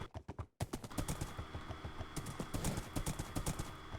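Horse hooves clip-clop in a steady, fairly loud rhythm while riding in the Minecraft modpack SevTech Ages, starting after a brief pause and continuing without pause.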